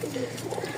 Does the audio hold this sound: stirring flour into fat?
no